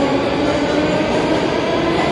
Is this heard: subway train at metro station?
yes